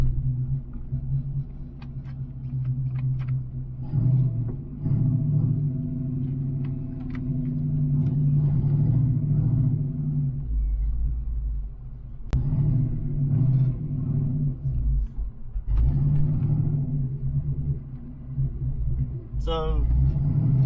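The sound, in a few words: stroked Ford Mustang Foxbody engine running rough with a miss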